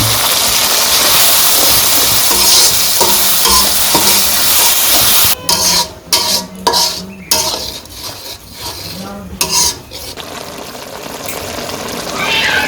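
Ground spice paste of ginger, garlic, onion and green chilli goes into a pan of fried onions for a village-style chicken curry. A continuous sizzle runs throughout, broken after the midpoint by several loud clattering stirs and scrapes.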